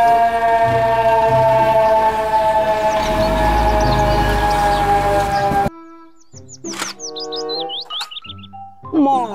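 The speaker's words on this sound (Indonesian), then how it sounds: "Mobil truk pemadam" A toy fire truck's electronic siren wails with a steady, bright, looping tone for several seconds, then cuts off, and chirpy electronic sound effects follow in short bursts.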